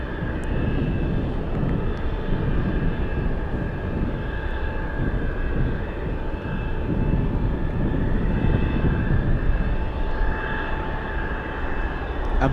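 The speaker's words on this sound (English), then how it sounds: "We have an encore demonstration by the Blue Angels." Blue Angels jets fly an encore demonstration while steady aircraft engine roar fills the air, a broad, continuous rumble that holds at an even level throughout with no pause.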